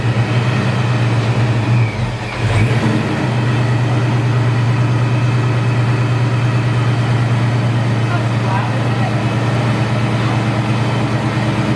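A 1968 Pontiac Firebird with a supercharged LS1 V8 idles steadily and loudly after a start, a constant low engine drone with a brief dip early on, with no talking.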